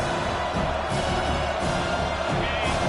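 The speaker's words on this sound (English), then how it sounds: "Decibels rising as the crowd gets behind this defense on 3rd down." A college football crowd at a Georgia State versus Penn State game roars steadily on third down, a dense, continuous wall of cheering and whoops that holds loud throughout without a break.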